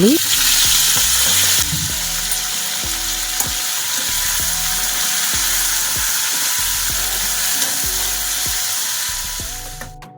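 Dried chillies and curry leaves fry in a pan for a festival meal, giving a steady bright sizzle with stirring scrapes and faint background music throughout, fading near the end.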